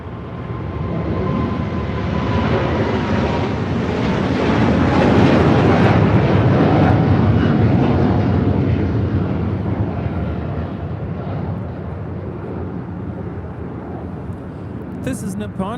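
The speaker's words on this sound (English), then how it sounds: "This is Nippon Cargo Airlines 101 taking off to Tokyo Narita on a 747-8 freighter." A Nippon Cargo Airlines Boeing 747-8 freighter takes off at LAX, a broad, steady jet roar that swells toward the middle and slowly eases, with wind buffeting and faint talk in the background.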